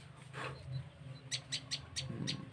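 A male perenjak lumut bird, just freed after being trapped, sounds a run of short, sharp, high chirps in quick succession against quiet outdoor background noise, close by with no talking.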